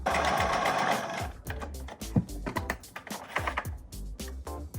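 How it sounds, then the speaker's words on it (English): Sewing machine running a straight stitch along pinned shirt fabric at the bottom hem, a steady fast mechanical whir with rhythmic needle clatter, close and loud, briefly pausing and restarting. "you're going to want to sew a straight stitch along the pins"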